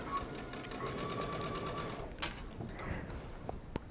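A sewing machine runs a straight stitch along a mesh fabric seam, a close, steady whirring hum that stops briefly near the end, with a few small clicks after it.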